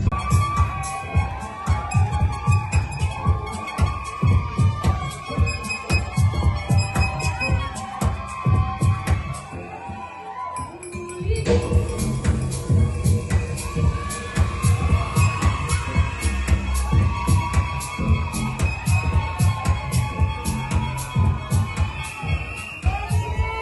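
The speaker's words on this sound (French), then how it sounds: "Applaudissez." A ceremony audience celebrating African cultural heritage claps and cheers loudly and continuously, with shouts and whoops rising from a dense crowd, a brief lull midway, then the roar resumes.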